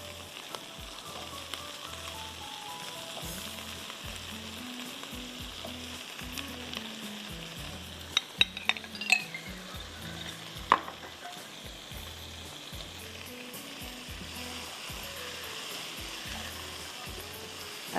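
Vegetables and potatoes fry steadily in a pan, a continuous even sizzle with a few brief clinks of stirring near the middle, close and alone without talk.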